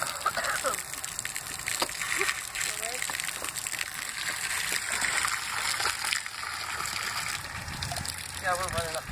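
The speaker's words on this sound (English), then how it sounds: "we're running up there with water going like crazy" Water rushing fast and splashing nearby in a continuous loud gush, with voices talking over it and a bird calling now and then.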